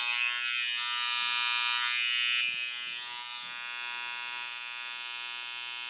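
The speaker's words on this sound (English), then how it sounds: "Angle the clipper out hard just to get some of that overhang." Electric hair clipper trimming the overhang of a strong square-shaped beard, a steady close buzz that runs continuously and drops slightly in level partway through, with no talking.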